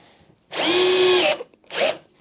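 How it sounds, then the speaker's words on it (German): A power drill drives a large screw into a wood workbench, one sustained high whirring burst of under a second, then a short second burst after a brief pause, close and loud. "Da packe ich jetzt eine ordentlich fette Schraube rein."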